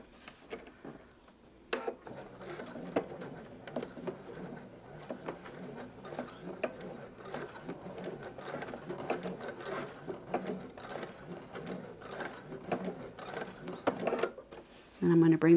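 A sewing machine runs steadily along a seam, its rapid mechanical patter continuing with small irregular bumps until a louder hum near the end.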